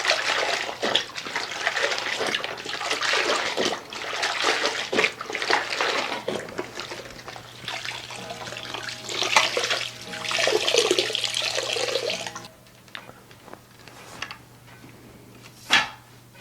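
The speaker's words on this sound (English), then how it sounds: "rinsing the mop out in this solution right here between rounds." Mop rinsed in a bucket of Nyco Ever-Pine cleaning solution, a close run of sloshing, splashing and dripping water that ends in a quieter stretch with one last splash.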